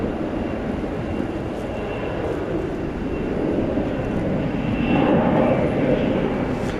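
American 1648, an Airbus A321 departing DFW Airport at night, roars as a broad, continuous jet engine rumble that swells slightly louder toward the end, heard alone without talk.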